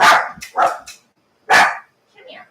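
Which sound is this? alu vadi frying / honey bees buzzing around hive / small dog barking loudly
small dog barking loudly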